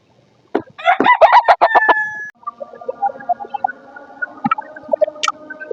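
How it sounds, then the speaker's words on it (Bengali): A domestic rooster crows loudly and nearby, one ringing cock-a-doodle-doo followed by softer clucking and short calls from the fowl, with no voices present. "এই আমার পালা মোরগ"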